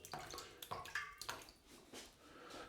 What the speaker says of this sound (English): find the opening, put in 2 fingers, get some water in there